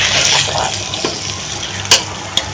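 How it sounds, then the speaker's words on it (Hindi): Ghee being poured into gur suji halwa cooking in a pan, with a steady sizzle and light stirring scrapes throughout, plus a couple of brief sharp clinks near the end, no talking. "ये अभी थोड़ा सा और अम्मी घी डाल रही है"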